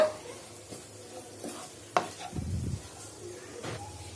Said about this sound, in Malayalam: ഇതെല്ലാം കൂടിയിട്ട് നന്നായിട്ടൊന്ന് യോജിപ്പിച്ച് കൊടുക്കുക.